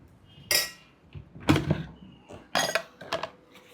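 Dishes and cutlery clink in a home kitchen as rice porridge is served. About four close, sharp clatters are spread out over a few seconds.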